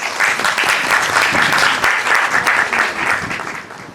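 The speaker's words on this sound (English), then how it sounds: "I would request the audience for a huge round of applause" A conference audience breaks into a steady round of loud applause, thick continuous clapping that holds for several seconds before tapering slightly.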